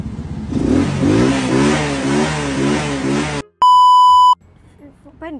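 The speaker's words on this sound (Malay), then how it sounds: "Oh. Dia nak start motor." A motorcycle engine turns over and revs for a few seconds, loud and close, then cuts off, followed by a sharp electronic beep tone and quiet voices.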